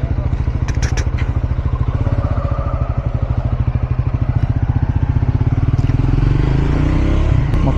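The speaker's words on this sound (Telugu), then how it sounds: "4 బైక్స్లో ఒకటి యూనికార్న్, ఇంకోటి జూపిటర్ మందే, ఇది యాక్సెస్ 125." Bikes and scooters ride in a group toward Anantagiri Hills: a Unicorn, a Jupiter and an Access 125. Their engines give a loud, steady, pulsing drone throughout, with a few sharp clicks early on.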